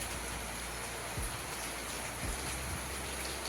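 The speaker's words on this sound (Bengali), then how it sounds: "এদিকে দেখো কত বৃষ্টি শুরু হয়ে গেছে" Rain falls steadily outside a home on a rainy day, an even broadband patter and wash with a couple of faint low thumps.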